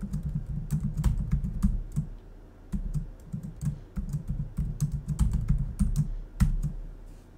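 Keys on a computer keyboard clack in quick, irregular bursts as a password is typed, close and clear, with short pauses between runs of keystrokes and no talking.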